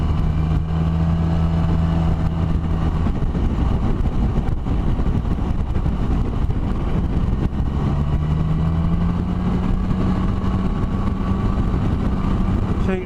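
Suzuki Burgman 650 Executive scooter from 2017 pulls onto a dual carriageway, its engine note climbing and shifting as it accelerates, with continuous wind and road roar throughout.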